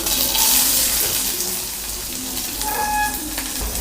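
Onion and green chili frying in oil in a pan, a steady, fairly loud sizzle with a brief brighter hiss burst near the end.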